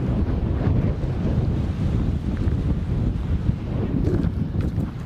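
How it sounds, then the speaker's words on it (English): Strong wind roars across a boat anchorage, buffeting the microphone in a steady, loud rush with low gusty rumble and no break. "the wind has turned around and made our anchorage not so nice"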